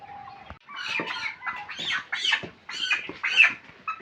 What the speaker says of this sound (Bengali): এই যে ওখানে মুরগিগুলো পানি খাচ্ছে।